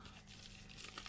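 Plastic packet from AliExpress being torn open, a steady close crinkling and rustling of thin plastic for about a second, with no talk.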